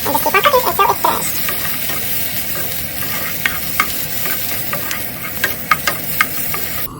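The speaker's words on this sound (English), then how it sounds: "you want to keep on turning the sausages. So you keep tossing the sausages" Cubed sausage frying in a pan sizzles steadily while being tossed and turned, with a run of quick scraping strokes at the start and scattered sharp clatters of utensil against pan.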